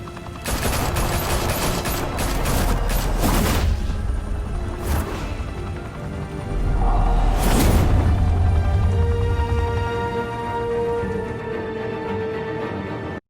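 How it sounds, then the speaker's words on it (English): Gunfire in a Batman Telltale video game: loud bursts of rapid shots and heavy impacts in several volleys, with booming crashes and ringing debris between them. "Now we only have to take one of you down. Open fire!"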